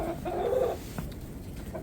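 Chickens in a brooder box cluck softly up close, with a short burst of murmuring clucks at the start and quieter ones after, over a low background hum.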